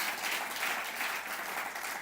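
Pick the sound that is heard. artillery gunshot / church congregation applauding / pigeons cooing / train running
church congregation applauding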